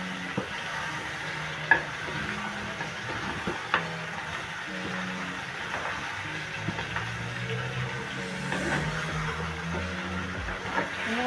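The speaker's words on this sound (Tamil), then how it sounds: "நண்டை சேர்த்துட்டு வடிவாக சிரட்டு கொஞ்சம் விட்டுட்டு அடுப்பை கொஞ்சம் குறைச்சி விட்டுட்டு" Crab curry in a pan on a lowered flame, a soft, steady sizzle broken by occasional scraping knocks of stirring, quiet and close with no talk.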